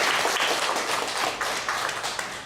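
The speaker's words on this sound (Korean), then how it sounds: "박수 한번 해줘야 돼요." A church congregation claps during a Sunday worship service, dense, continuous applause from many hands, fairly close, with no talk over it.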